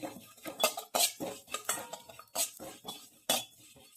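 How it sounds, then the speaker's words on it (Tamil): Cumin is dry roasted in a pan with continuous stirring, a metal spoon scraping and clinking against the pan in an uneven, brisk rhythm up close, without any talking. "இப்படி கைவிடாமல் வறுத்துக்கோங்க"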